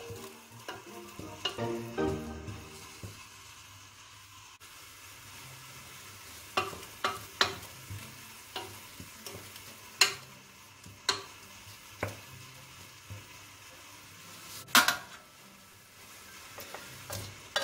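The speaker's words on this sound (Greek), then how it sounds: "Και το τσιγαρίσουμε και αυτό." Chickpeas and chicken with carrot and fennel sautéing in a pot, a low sizzle under repeated scrapes and taps of a spoon at irregular intervals, close and fairly quiet, with no talking.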